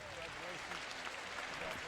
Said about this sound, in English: Give so a big round of applause.